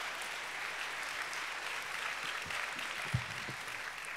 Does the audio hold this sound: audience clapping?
yes